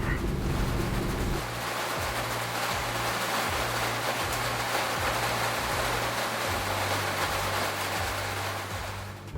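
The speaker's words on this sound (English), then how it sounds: "listening to this sound, to the sound of the pitter patter as the rain hits the roof of my car" Steady dense patter of rain drumming on a car roof, a constant hiss with a low rumble beneath, no voices.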